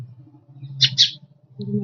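Sparrow chicks give two quick, high chirps close by, set against a low steady hum with otherwise quiet surroundings.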